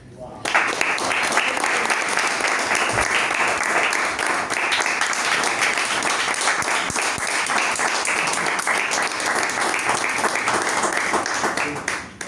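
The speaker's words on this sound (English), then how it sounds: "You heard the claps?" An audience at a Toastmasters club meeting applauds the best speaker award with loud, dense, continuous clapping that swells quickly and carries on for about twelve seconds before tapering off.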